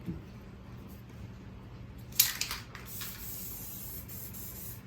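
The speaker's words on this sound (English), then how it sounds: "Before you spray, just kind of make sure it's good." A can of red or green spray paint gives a short hiss, then a longer steady spray that continues to the end, close and moderately loud in a quiet room.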